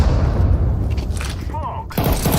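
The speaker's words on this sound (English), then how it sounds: "I'm throwing a grenade. Grenade out." A grenade explodes in a Counter-Strike 2 match, a loud booming blast with gunfire-like crackle filling the scene, briefly cutting out before another burst of noise.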